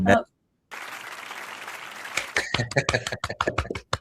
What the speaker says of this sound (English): Oh, that was a short clap.